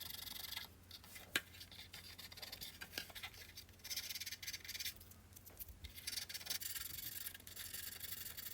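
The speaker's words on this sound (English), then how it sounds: "The sanding is needed only on the exhaust covers and the front part of the plane." Fine sanding on a 1/48 scale Hasegawa Saab J35F Draken plastic model kit, faint close-up scratchy rubbing strokes in irregular short bursts against a quiet background.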